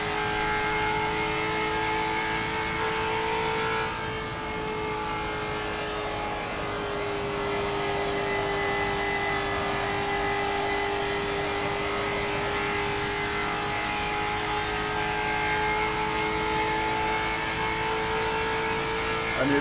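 Race car engine in Forza 7, played on a TX Race Wheel, holding a steady loud droning whine with sustained revving tones throughout, no voices over it.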